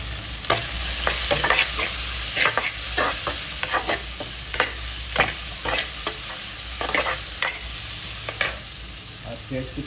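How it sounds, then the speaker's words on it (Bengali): Chopped garlic frying in hot oil, with a steady close sizzle broken by repeated scraping strokes of a spoon stirring it around the pan, no voices. "এখানে রসুন কুচিটা দিয়ে দিলাম। রসুনটা ব্রাউন হয়ে গেলে পেঁয়াজ কুচিটা দিয়ে দেবো।"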